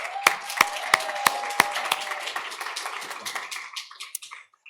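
Audience applause at a plenary session of an inequality, work and nature policy conference, opening with several sharp separate claps that blend into a soft, steady patter of clapping and fade out, with no talk over it.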